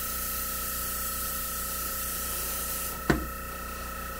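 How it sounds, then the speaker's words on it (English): Airbrush spraying paint on a die-cast toy car body: a steady, close hiss runs throughout, broken near the end by a single brief burst. "I'm using the airbrush itself to help dry it a little bit"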